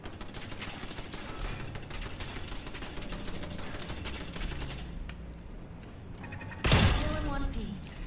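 Rapid automatic gunfire rattles in a video game firefight, a dense sustained fusillade over several seconds that briefly eases before a louder burst near the end, with voices talking over it.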